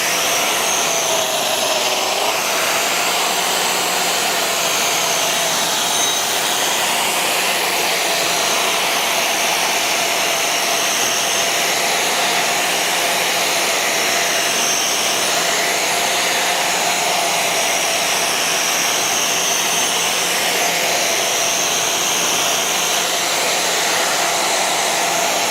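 A floor grinder runs steadily on an area of floor, a loud, even, broadband whine with no breaks and no talking over it.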